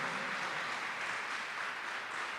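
Church congregation applauding, a steady, dense wash of clapping hands with no talk.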